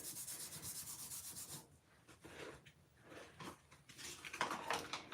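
An embossing buddy is rubbed back and forth over cardstock in a series of soft, close, scratchy strokes with brief pauses, heard alone and quietly.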